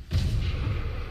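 A single booming sniper rifle shot rings out in the video game Sniper Elite 3, a loud low-heavy report with a sustained rumbling tail.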